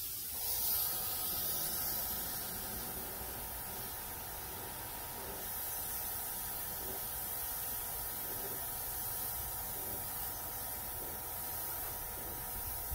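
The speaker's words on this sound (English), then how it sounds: "The spray pattern is so perfect out of this." A steady, broad hiss of a spray gun applying coating, continuous and close for the whole stretch with no talking.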